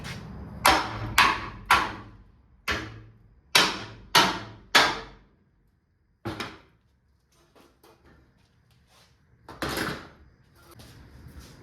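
Hammer blows on the metal bed of a 1978 Ford F100 pickup being cut down to a short bed: sharp, hard strikes landing in quick clusters of two or three, with quiet gaps and a last lone hit, no talking.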